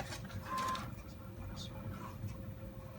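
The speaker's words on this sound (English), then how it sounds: "I hope you guys don't mind the sound of the printer working away in the background" A printer works away in the background of an indoor workspace, a faint, low mechanical whirr and rattle with soft shifting tones, heard quietly throughout.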